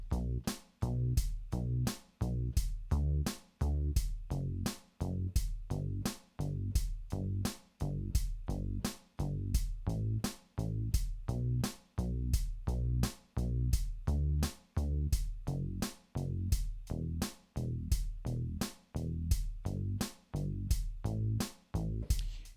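A repeating piano pattern plays over a steady drum beat, with regular strong hits keeping an even, fairly quick rhythm throughout.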